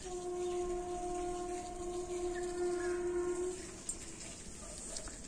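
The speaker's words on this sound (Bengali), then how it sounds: "ওই যে ট্রেন যাচ্ছে, ট্রেনের আওয়াজ আসছে" A distant train horn sounds a long sustained tone for several seconds over a steady rumble of rolling train noise, then fades to background hum.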